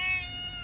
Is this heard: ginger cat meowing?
yes